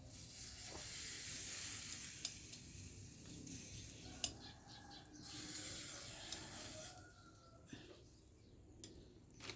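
Pork fat sizzles steadily on a grill, a constant hiss with scattered pops and crackles, close and fairly quiet, no voices.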